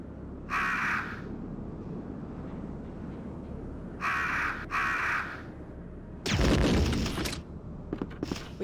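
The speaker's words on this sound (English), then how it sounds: "we're gonna get a grenade volley on these birds here" Crows caw in the Resident Evil video game with two harsh, close bursts a few seconds apart, followed by a loud, broad blast near the end over steady game ambience.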